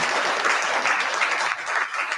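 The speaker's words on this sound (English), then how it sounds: "you got a round of applause and everything" Audience applause after a singer's performance, a dense, steady wash of clapping that fills the whole moment at close range with no talk over it.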